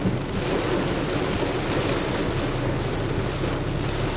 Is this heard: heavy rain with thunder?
yes